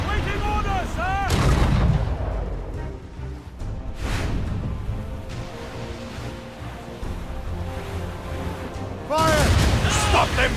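Ship cannons boom in a naval battle in Assassin's Creed Rogue, heavy blasts and rumbling volleys layered over battle music and shouted voices, with a loud burst near the start and another near the end.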